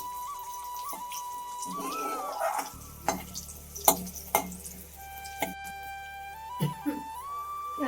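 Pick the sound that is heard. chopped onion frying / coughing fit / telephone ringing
chopped onion frying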